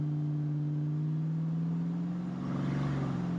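A 1968 Ford Mustang V8 fitted with Holley Sniper EFI idles close by with a steady low rumble that wavers slightly, a faint rise in the rough idle near the end, no voices over it.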